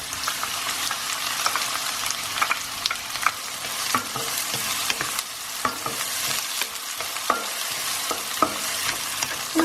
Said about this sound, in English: my onions go in next